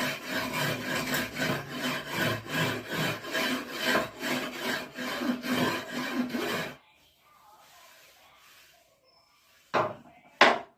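Powder being rubbed hard into a wooden surface with a hammer while sharpening a chisel, heard as a close, loud stretch of steady back-and-forth scraping strokes, then a quiet pause and two brief rasps at the end.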